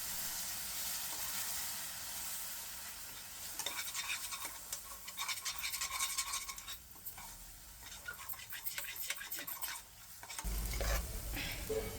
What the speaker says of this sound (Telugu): అడుగు మాడిపోకుండా కలపాలి